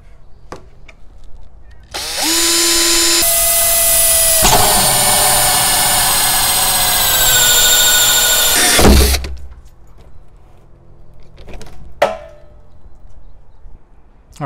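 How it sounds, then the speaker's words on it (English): Power drill spinning a small hole saw through a downspout, a loud sustained whine with shifting pitch lasting about seven seconds, then stopping, followed by a few faint knocks. "I attached the smaller hole saw to the drill, and this is the 5-inch mark. And start drilling the hole"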